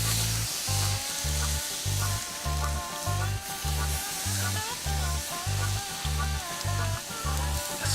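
Hickory chips tossed onto hot coals in a charcoal grill, giving a steady hiss and crackling sizzle close up, with a regular low pulsing thump repeating throughout.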